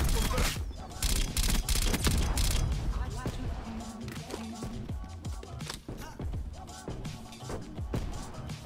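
Dense gunfire rattles through a Call of Duty: Black Ops Cold War match, with rapid bursts and scattered single shots from a CARV.2 rifle and other players. It is loud and near and nearly continuous, and speech is mixed in underneath.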